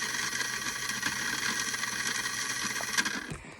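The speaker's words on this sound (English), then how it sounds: "so we can see and hear how fast this motor goes" A small electric RC motor in an upgraded WALL-E hobby car spins a taped wheel with a steady, high, tonal whir that holds even and then winds down at the end.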